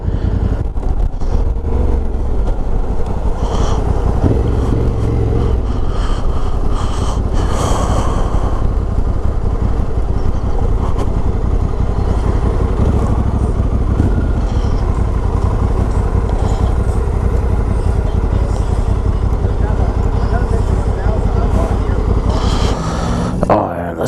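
Kawasaki Versys 1000 LT motorcycle ridden on an open road, a steady loud engine drone with continuous wind rush throughout, no clear gear changes standing out.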